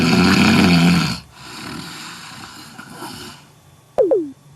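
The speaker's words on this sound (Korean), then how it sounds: "코골이가 시작되더니" A sleeping man snores with a loud, rough, rattling inhale at the start, followed by quieter breathing noise. Near the end come two brief sharp sweeping sounds.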